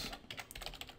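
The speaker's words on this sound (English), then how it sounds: "let's start typing" Rapid clicking of keys on a computer keyboard, a quick burst of close typing.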